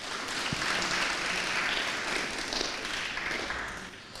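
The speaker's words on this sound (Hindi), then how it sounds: "जोरदार तालियां तो बजाइए जरा।" Studio audience on a farmers' quiz show breaks into applause, a dense, steady wash of many hands clapping together that holds evenly for several seconds before easing off slightly at the end.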